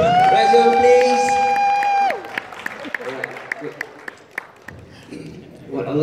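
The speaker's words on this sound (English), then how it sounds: "Who come from Johor, please clap your hands." Crowd clapping and cheering at the Man Of The Year Malaysia 2017 pageant announcement, a brief burst of applause with whoops from the hall that thins out, followed by someone speaking into a microphone.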